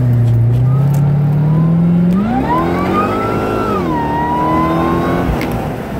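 A supercharged 2008 Callaway Corvette SC580 accelerates hard, its loud engine note climbing steadily through the revs, easing briefly and pulling again, close and continuous with no talk.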